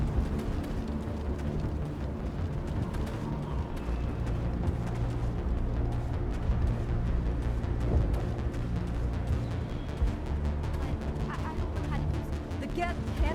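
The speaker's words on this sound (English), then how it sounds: "How is a woman supposed to think with guns going off all around?" Dense, rumbling gunfire rolls on without pause in the video game Mass Effect as a battle fills the background, with voices mixed in.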